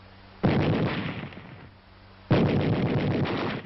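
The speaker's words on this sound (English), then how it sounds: "A machine gun." In a 1944 Army training film, a machine gun fires two long sustained bursts of rapid shots, separated by a short pause, loud and close with a muffled, old-recording tone.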